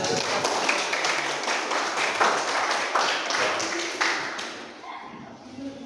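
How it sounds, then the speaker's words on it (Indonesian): Applause from a group of people, steady clapping hands with voices mixed in, fading away at the end. "Oke, tepuk tangan."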